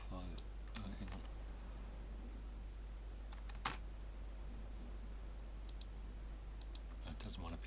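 Sparse, close computer mouse clicks while working in Chitubox slicing software, scattered single and double clicks with a sharper one midway, over a low steady hum and faint background talk.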